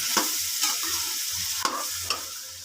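Chicken keema with yogurt for keema karela is stir-fried in a pan, with a constant close sizzle and a few sharp spatula scrapes and taps as it is mixed.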